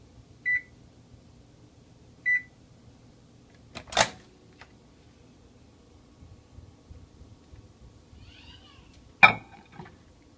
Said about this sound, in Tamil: இப்போது மைக்ரோவேவில் நம்ம வந்து ஒரு 6 மினிட்ஸ் மட்டும் வைப்போம்.